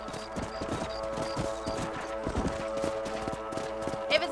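Horse hooves clip-clop in a steady trotting rhythm in the video game Red Dead Redemption, with a faint whinny near the end and ambient game sound underneath.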